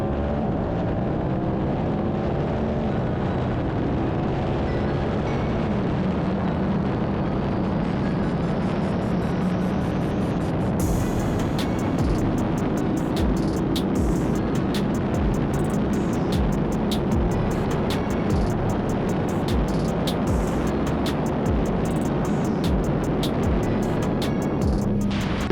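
A 2023 Yamaha R7 motorcycle engine at full throttle on a top speed run, a loud continuous roar climbing steadily in pitch with heavy wind buffeting, no talking over it.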